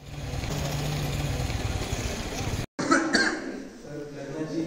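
A man with a month-long cough, seen at a doctor's visit, lets out a short burst of coughing near the middle, with low engine-like background noise and talking around it.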